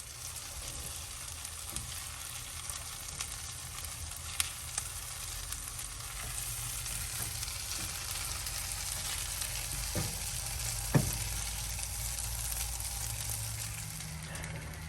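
Onions fry and caramelize in a pan on an RV stove, a continuous loud sizzle with a few sharp pops and scrapes along the way.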